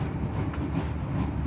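Inside the Menoreh passenger train as it nears Pemalang station, a steady low rumble of wheels on track carries faint rhythmic clatter throughout.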